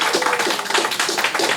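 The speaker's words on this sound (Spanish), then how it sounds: "dele un aplauso fuerte al Señor Jesús." Dense, steady applause from a church congregation, many hands clapping together in a loud, continuous patter.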